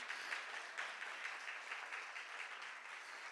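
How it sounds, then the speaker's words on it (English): Faint, distant applause at a community forum for the student senate, an even wash of clapping heard without any talk. "Let's give them a round of applause, please."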